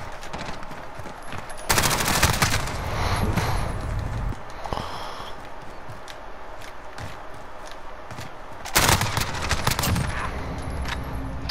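Bursts of automatic gunfire in Call of Duty: Modern Warfare, loud and close, with a heavy volley early on and another near the end, separated by quieter stretches of scattered shots and game ambience.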